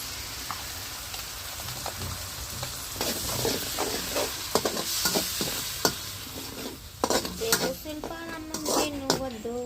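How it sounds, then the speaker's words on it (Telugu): Onion, ginger paste and tomato paste sizzle in a pan over a wood-fire stove, with a steady frying hiss, scattered scraping stir clatters and a voice briefly near the end. "ఎర్రగడ్డలు అల్లం పేస్ట్ అయితే మంచిగా వేగింది"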